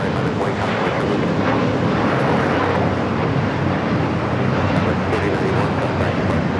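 JetBlue airliner on its takeoff roll from runway 25 right at Los Angeles International Airport, a steady loud broadband jet roar with wind noise, continuous throughout.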